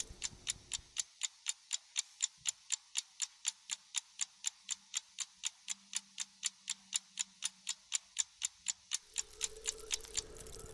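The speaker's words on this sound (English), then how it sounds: "now we're gonna let the clock run down for 30 minutes" A clock ticks in a steady, even rhythm about three to four times per second, crisp and close in a quiet room, with faint background hum toward the end.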